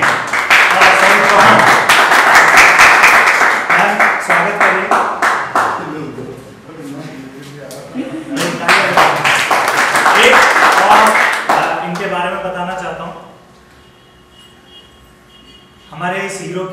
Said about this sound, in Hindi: तो जोरदार तालियों से उसका स्वागत करते हैं